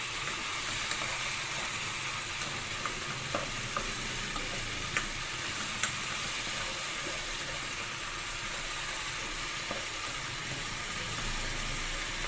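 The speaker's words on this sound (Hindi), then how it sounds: "फिर उसी ऑयल में हल्दी, नमक, मिर्च डाला, लहसुन अदरक का पेस्ट और पिसी हुई प्याज डाल के उसको मैं फ्राई कर रही हूँ" Masala of turmeric, salt, chili, ginger-garlic paste and ground onion frying in oil for a bhindi dish, giving a steady close hiss and sizzle with occasional soft stirring clicks, continuous and fairly loud, with no talking.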